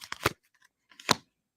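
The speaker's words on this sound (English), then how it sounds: "The card shuffling is satisfying." A deck of playing cards gets shuffled in two quick bursts of riffling and snapping, close and crisp, separated by a short pause of silence.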